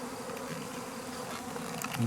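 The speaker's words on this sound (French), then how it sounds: "Un essaim qui est sorti de cette ruche." A honeybee swarm pouring out of a beehive makes a dense, steady buzzing drone that holds throughout and swells slightly louder near the end.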